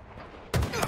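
Halo Infinite ranked match gunfire erupts abruptly halfway through, a loud dense burst of rapid shots after a quiet stretch.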